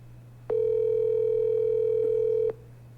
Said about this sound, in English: I'm calling Dave.